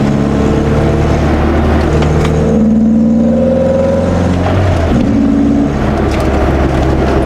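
A Renault Clio 172 hot hatch drives along with its engine droning loudly and steadily, the pitch rising and falling with shifts in revs, and no voices over it.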